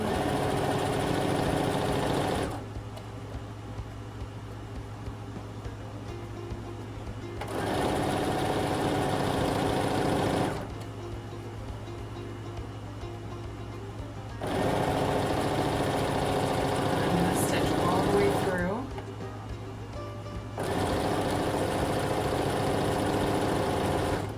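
A sewing machine stitches fabric down a seam for a Butterick 6682 garment, running in steady humming bursts of several seconds separated by quieter pauses.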